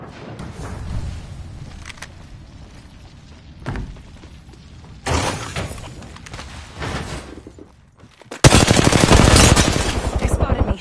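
Gunfire in Apex Legends arrives in bursts: scattered shots early, a louder volley near the middle, then a dense, loud rapid-fire stream toward the end, with quieter game noise between bursts.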